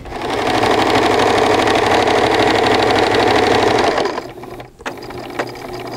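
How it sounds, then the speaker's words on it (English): A sewing machine runs steadily at high speed stitching fabric for about four seconds, loud and close with a fast even rhythm, then stops and leaves a few soft clicks and handling noises. "Now let's sew the other one."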